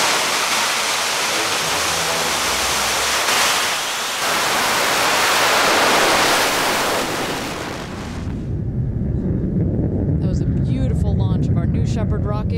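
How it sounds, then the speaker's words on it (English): A Blue Origin New Shepard rocket roars loudly at launch in West Texas, a dense, steady rushing blast lasting several seconds. It then gives way to a voice speaking over a lower rumble. "T-minus 10, 9, 8, 7, 6, 5, 4, command engine start"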